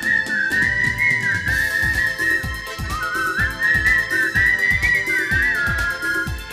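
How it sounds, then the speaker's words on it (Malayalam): A performer whistles a clear, sustained, wavering melody over a live orchestra, with a steady rhythmic beat driving the accompaniment throughout. "വാദ്യോപകരണ സംഗീതത്തിനും വായ്പാട്ടിനും ഇടയിലുള്ള ഒരു ഗാനശാഖയാണ് വിസിലിംഗ്."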